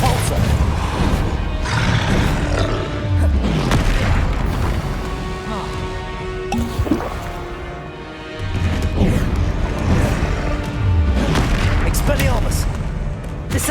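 Repeated booming spell blasts from the Confringo curse in the video game Hogwarts Legacy, loud crashing bursts arriving in quick succession over a dense rumbling game soundscape, with a voice shouting spell names throughout.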